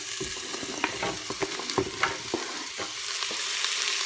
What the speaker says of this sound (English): Slightly saute that. You can hear the sizzling.